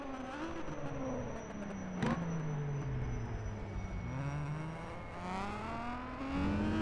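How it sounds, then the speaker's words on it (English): A race car in a two-hour endurance race at the Dundrod Tourist Trophy circuit brakes into a corner, heard from onboard as a steady engine drone with thin high-pitched squeal tones from the brakes running through it. "Hear the squeaking of the brakes as well."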